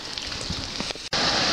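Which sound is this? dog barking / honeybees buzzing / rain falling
rain falling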